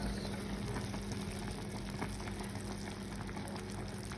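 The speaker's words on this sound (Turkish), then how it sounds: "Bir de ocağa dolma koydum." A pot of stuffed vegetable dolma simmers on a stovetop, a steady low bubbling and hissing burble that holds constant throughout, close and fairly quiet, with no voices.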